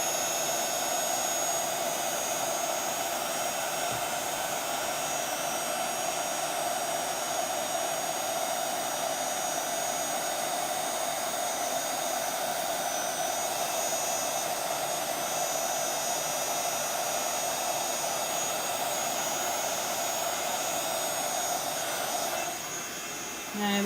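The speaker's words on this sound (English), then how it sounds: "we're going to just move the heat gun over the image" A heat gun blows steadily for over twenty seconds as it melts embossing powder on a card, a constant loud whooshing roar with no talk over it, cutting off just before the end.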